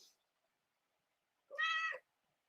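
A single cat meows once, a clear, close, harmonic call lasting about half a second, with near silence around it while the animal is held in someone's arms.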